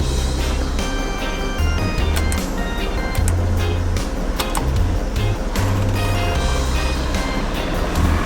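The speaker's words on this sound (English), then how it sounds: "Let's see if the heat works starting out. Hit the fan button." Heater fan of a high-mileage Audi A6 Quattro 3.2L S Line blowing a loud, steady broadband rush inside the cabin, with a low hum shifting underneath.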